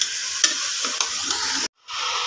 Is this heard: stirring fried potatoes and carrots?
yes